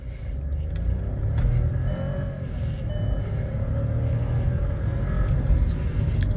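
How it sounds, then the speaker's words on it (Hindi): A Skoda Slavia Style 1.0 automatic accelerates with a steady, loud low engine rumble heard from inside the car, holding an even drone throughout. "अभी एक्सेलरेट करता हूँ"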